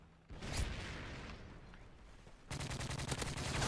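Rapid gunfire from an opposing player in a Call of Duty match, dense bursts of automatic shots close by, with a louder rhythmic stretch of rapid fire in the final second or so.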